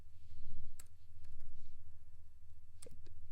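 Quiet typing on a computer keyboard: a few scattered, sharp key clicks over a low background hum, with no speech.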